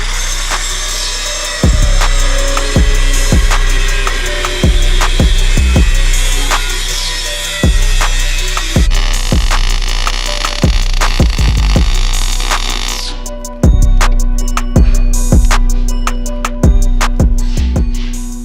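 Steel angle pieces being cut to size for truck fenders with a power tool: loud, repeated harsh cutting bursts separated by short pauses, close and continuous, with no talking.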